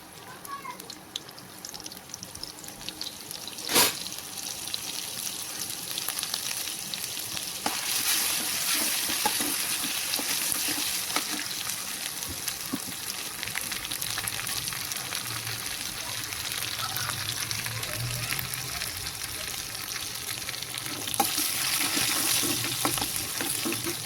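Ginger and garlic fry in hot oil in a pan for kachori masala, a steady loud sizzle with occasional stirring clatter and a spoon tap, while a person talks intermittently over it.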